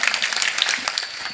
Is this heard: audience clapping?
yes